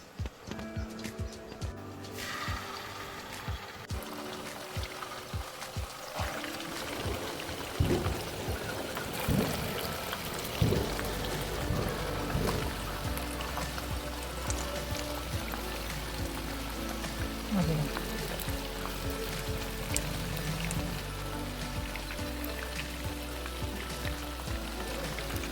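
Chicken pieces frying in oil for a Malayali rice-and-chicken curry, a dense steady sizzle and crackle running throughout, close and loud, with occasional clatters and stirring knocks.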